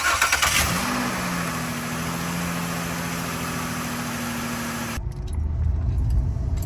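Keys jangle, then a 2008 Ford Escape V6 cranks and catches right after new spark plugs, settling into a steady close idle before a brief rev near the end.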